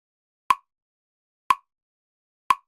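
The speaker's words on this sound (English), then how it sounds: "60 beats per minute sounds like this" Metronome-like beat at 60 beats per minute: three sharp, isolated clicks spaced one second apart, crisp and close against silence.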